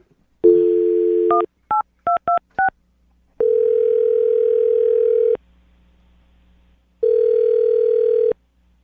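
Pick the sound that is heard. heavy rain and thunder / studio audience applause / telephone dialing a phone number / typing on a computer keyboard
telephone dialing a phone number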